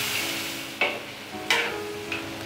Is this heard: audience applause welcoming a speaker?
no